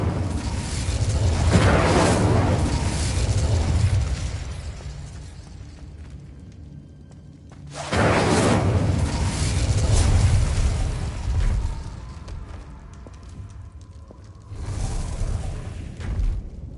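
Fiery bursts from the Incendio spell in the game Hogwarts Legacy: three loud, roaring whooshes of flame, each swelling and fading over a few seconds, separated by quieter rumbling pauses.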